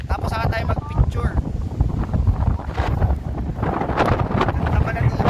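Loud wind blows across an open seaside area in Ilocos, a continuous rough buffeting on the microphone with voices chatting on top of it.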